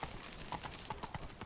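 Roach, a horse in the video game Witcher 3, trots with rhythmic hoof clip-clops, close and fairly quiet, several evenly spaced hits in a brief burst.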